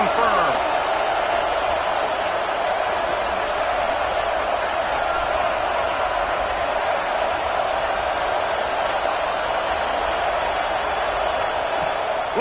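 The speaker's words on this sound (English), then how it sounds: "this crowd imploring its defense to stand firm." A college football stadium crowd in Florida roaring for its defense in a late red-zone stand, a dense, loud, continuous wall of cheering with a commentator's voice running over it.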